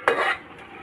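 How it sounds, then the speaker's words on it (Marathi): Chicken goes into a hot cooking pot in a village kitchen, a single sudden splash and hiss that quickly settles into a softer sizzle, close and fairly loud with no talking. "मित्रांनो आता मी चिकन टाकून घेतो."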